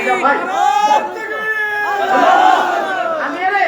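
A large crowd at a Bengali Islamic sermon gathering roars the takbir in unison, a loud, sustained swell of many voices chanting together with overlapping shouts.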